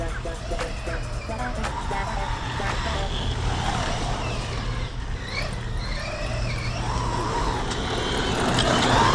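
An MJX 7303 Citroen C3 radio-controlled car, running on a 3S battery, accelerates over off-road ground. Its electric motor whines continuously with crunching, rattling terrain noise, growing louder toward the end.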